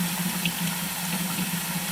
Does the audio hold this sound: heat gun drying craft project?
no